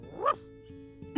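A dog lets out a short yip, followed by a quieter whimper and another sharp yelp at the end, close and fairly faint, set inside an animated children's show.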